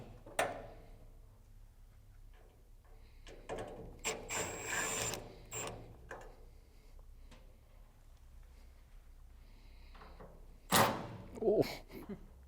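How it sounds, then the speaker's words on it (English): Screws are backed out of an L bracket on a Camp Chef Apex pellet grill: faint scattered clicks, scrapes and ratcheting clunks with quiet gaps between them, plus a couple of louder knocks near the end. "There's just 3 screws that we are going to remove"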